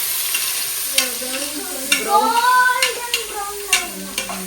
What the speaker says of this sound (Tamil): வெங்காயம் வந்து பார்த்தீங்கன்னா வளர்த்த போல நல்லா எப்படி வரணும்,